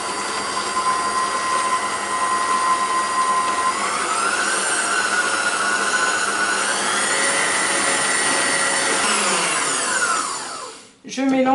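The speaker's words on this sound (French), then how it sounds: "Je mélange jusqu'à total refroidissement." A stand mixer whips Italian meringue as it cools, a loud, steady whirring motor whose pitch rises in a couple of steps before it winds down and stops.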